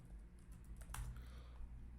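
Typing on a computer keyboard, a steady run of soft clicking keystrokes with one louder burst of keys near the middle, close by and alone over a low background hum.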